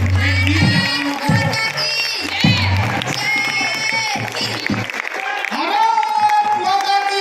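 A crowd at a school cultural programme at the Kajli fair in Mahoba applauds and cheers for brave soldiers, loud sustained clapping beneath music and an amplified voice.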